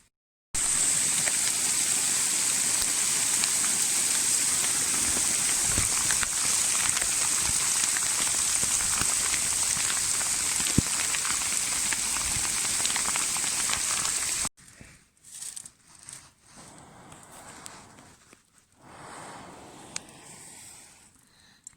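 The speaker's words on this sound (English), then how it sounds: "and it's starting to rain again." Steady rain pattering on a campsite beside a smoky fish-smoking fire, a dense even hiss for about fourteen seconds that then stops abruptly, leaving faint scattered outdoor sounds.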